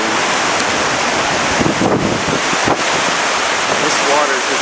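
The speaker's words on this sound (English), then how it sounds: "This water is just raging out to the ocean." Storm-swollen water in Ireland rages out to the ocean after heavy flooding rains, a loud, constant roaring rush with wind buffeting the microphone and a voice talking briefly over it.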